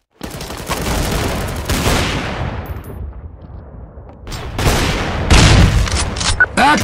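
Rapid bursts of Counter-Strike: Source gunfire crack loudly, sharp automatic volleys with a brief lull before another heavy string of shots and echoing booms.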